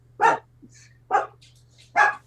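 Dogs bark three times in evenly spaced single woofs, loud and fairly close, against a quiet room with a low steady hum during a podcast recording.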